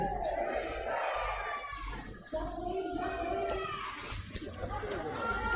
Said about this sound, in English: the crowd's been awesome this morning